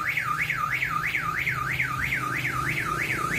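Wireless anti-theft security camera sounding its alarm siren after detecting motion: a loud, steady wailing tone rising and falling about three times per second, continuous and alone with a low hum beneath.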